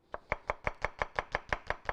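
A knife chopping onion on a cutting board, eleven steady, evenly spaced close knocks at a brisk rhythm, no voices over it.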